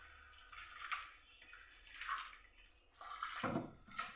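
An onion is washed in water, with soft, faint splashes and trickling that come and go in short bursts, close by and quiet.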